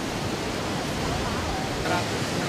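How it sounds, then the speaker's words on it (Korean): Iguazu Falls roars as a steady, dense wash of broadband noise, loud and constant throughout, with a voice faintly mixed under the rush. "저는 지금 미션의 그 폭포 앞에 서 있습니다"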